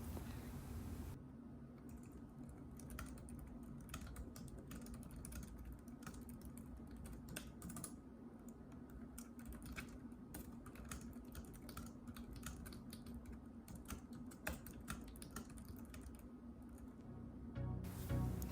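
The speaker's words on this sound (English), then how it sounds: "So here's some typing sounds on the K380." Typing on a Logitech K380 keyboard, a steady run of light, rapid key clicks that carries on without a break and sounds close.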